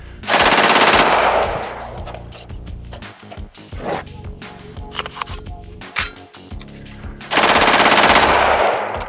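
An AR-15 rifle with a nitride-treated barrel firing full auto, two loud sustained bursts at the start and end with sharp single shots and mechanical clatter in between, close and dominant.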